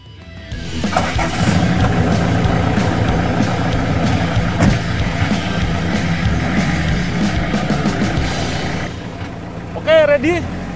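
A car's engine rumbles steadily, loud and close, as the car rolls forward to drive over a G-Shock watch placed beneath its tire. A brief rise in level and a short voice come near the end.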